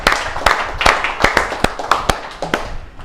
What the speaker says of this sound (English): I would like to start off with a round of applause for yourself for turning up